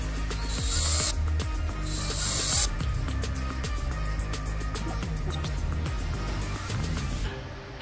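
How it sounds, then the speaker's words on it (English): Self-tapping screws are driven to secure the DRL connector plug on a Polaris Ranger OEM headlight fitted with ACL Switchback DRL boards, giving rapid ratcheting clicks in repeated runs, close and fairly quiet, with two short hissing bursts early on. "Install the 4 self-tap screws to hold the DRL connector plug."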